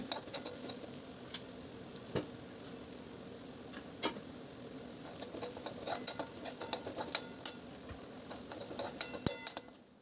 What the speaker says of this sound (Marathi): यामध्येच आता थोडीशी आलं लसूण पेस्ट आणि हळद घालून 1 मिनिट आणखीन परतून घ्यायचं आहे